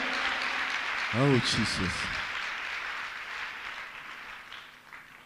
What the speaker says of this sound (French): Acclame bien.